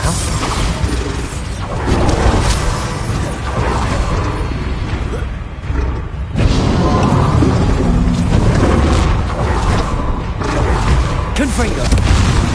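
Confringo fire spell blasts in the Hogwarts Legacy video game, loud booming explosions and rumbling magical impacts that repeat through a busy duel, with bursts of clashing and crackling effects.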